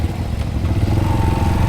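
A motorcycle engine runs close by on a mountain road trip in Gilgit-Baltistan, a steady low rumble with chattering mechanical clatter, holding even and loud throughout with a faint rise in pitch late on.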